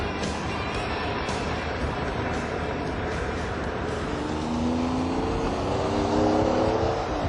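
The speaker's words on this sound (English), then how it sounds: "It's called the Diablo, and it's one of the fastest cars in the world." A Lamborghini Diablo sports car engine roars loud and steady, its pitch climbing toward the end as it accelerates hard under wind and road noise, with no talking.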